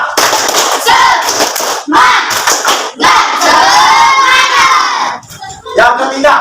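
A classroom group claps in rhythmic bursts with loud shouting and cheering, several patterns broken by short pauses, close and energetic.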